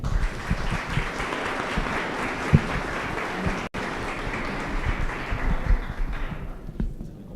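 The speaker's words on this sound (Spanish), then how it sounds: "Bueno, gente, un aplauso a Javier" A conference audience at a developer week event in Bogotá applauds a speaker, dense sustained clapping that stays loud for several seconds, briefly cuts out, resumes, then fades toward the end.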